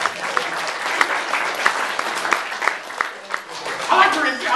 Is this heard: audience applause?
yes